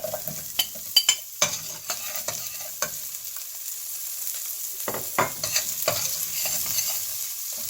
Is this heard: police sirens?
no